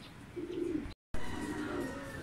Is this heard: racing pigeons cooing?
yes